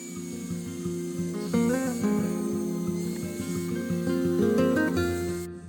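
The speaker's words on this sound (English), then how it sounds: "If you have a Dremel, this works a little faster" A steady high-pitched whir of a Dremel rotary tool sanding a wooden ring, with shifting tone as pressure changes, close and fairly loud.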